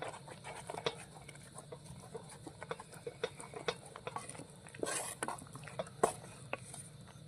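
Mysore pak mixture is stirred continuously in a kadai as oil is poured in, giving close, irregular scraping and tapping of a utensil over a faint bubbling patter.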